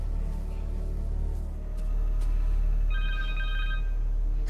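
A cell phone rings in Marvel's Spider-Man 2, a repeating electronic ringtone that enters partway through over a steady game background hum, clear and close with no talk.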